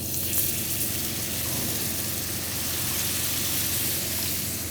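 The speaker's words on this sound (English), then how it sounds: "we'll just mix all the ingredients nicely" A pan of chole and chana dal masala mixture being stirred, giving a steady, continuous sizzle and scraping with no voices.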